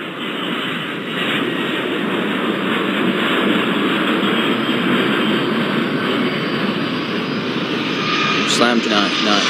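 Continuous jet engine roar and airplane taxiing noise from the Airport Madness 4 airport game, a steady loud drone with a brief higher whine near the end, under speech.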